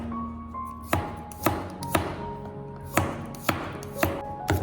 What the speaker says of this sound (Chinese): 然后再剁成蒜末